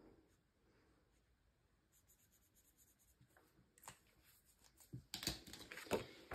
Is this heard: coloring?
yes